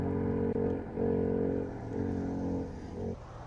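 A race car engine at a hillclimb surges and drops repeatedly as the driver goes on and off the throttle, a loud close drone rising and falling in several pulses.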